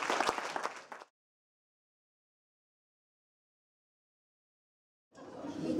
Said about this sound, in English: these guys deserve a big round of applause